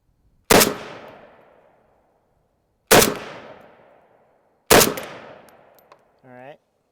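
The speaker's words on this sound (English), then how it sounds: "I'm just going to shoot a couple rounds to confirm 0 off the bag, and then mag dump" Three loud, sharp AK rifle shots fired from a bag rest, each spaced a couple of seconds apart with a long decaying echo, followed by a brief faint voice at the end.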